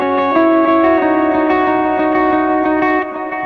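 Electric guitar notes ring out with heavy reverb, each strummed chord blooming and trailing into a washy tail, played alone.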